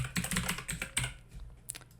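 Close, quick typing of code on a computer keyboard, with bursts of crisp key clicks in an uneven rhythm, a few heavier strokes standing out, then a brief lull before a final tap.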